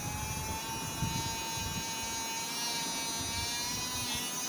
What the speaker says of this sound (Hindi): टूथब्रश इस तरीके से वाइब्रेट होकर ही दांतों को साफ करता है।